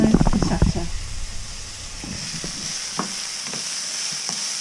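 A tomato sauce of passata, garlic paste, Worcester sauce and black pepper sweats down in a pan, giving a soft steady sizzle after a few louder stirring knocks at the start.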